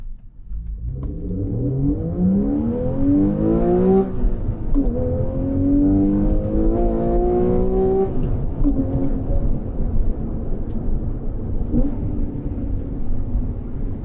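A Porsche 911 Carrera 4S accelerates hard, its engine climbing loudly through the revs with a crisp gearshift dip about four seconds in and another near eight seconds, then continuing to pull strongly.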